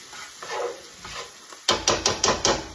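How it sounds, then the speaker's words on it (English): A small onion sautéing in about three-quarters of a stick of butter for succotash, with a soft sizzle followed by a quick series of five or six close stirring scrapes against the pan. "I am sauteing this onion up in about 3/4 of a stick of butter."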